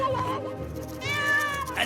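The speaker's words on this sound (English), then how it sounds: "Was that a cat?" A cat meows in a comedy scene, with a drawn-out tonal cry rising and falling near the middle, heard alongside overlapping talk and room noise.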